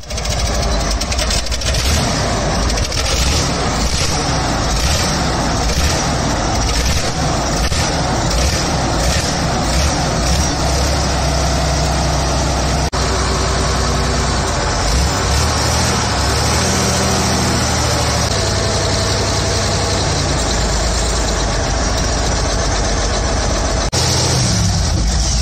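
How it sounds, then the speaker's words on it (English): A rare old high-performance V12 diesel built for fast military patrol and torpedo boats, 62.4 liters with mechanical supercharging, cranks, fires and runs at a loud, rough, continuous roar that shifts pitch as it settles. "high-performance V12 diesel engine primarily designed for extremely fast military patrol and torpedo boats, demanding maximum power in a lightweight package"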